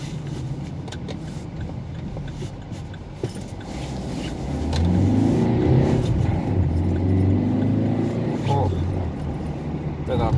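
A car engine idles and runs steadily while warming up on a cold day, a low rumble that grows louder midway, with a person talking over it.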